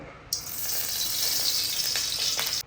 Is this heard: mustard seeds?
yes